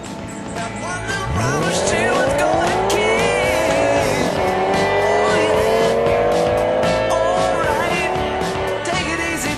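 Race cars at an American speedway: a close engine roars up and holds a high, steady whine as it passes, with other cars droning underneath and a dense, loud, continuous racing din.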